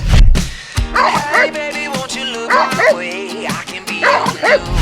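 A dog barks and yips in short excited bursts, close by, with whining, stretched vocalizations between the barks.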